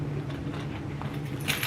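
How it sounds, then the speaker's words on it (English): Keys jangling as they are pulled from a purse, a brief close-up metallic rattle with a brighter clink at the end, over low background hum. "Keys."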